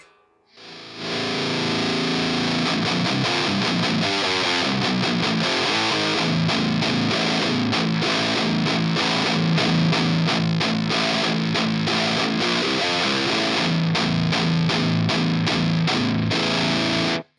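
A vintage guitar amp on its dirty channel roars with thick, saturated distortion as chords and riffs are played continuously, loud and close, with no talking.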